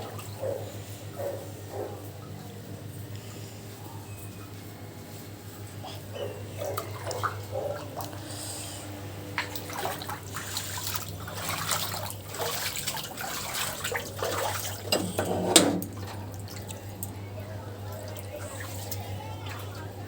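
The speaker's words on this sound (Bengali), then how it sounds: "দেখো আমাদের বাড়িতে কেমন জল ঢুকে গেছে" Floodwater entering a house sloshes and trickles with scattered splashes over a steady low hum, growing busier toward the end.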